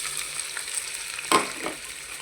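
Hot oil sizzling in a pan ready for frying large fish roe, a steady close hiss with one louder splutter burst midway, no voices.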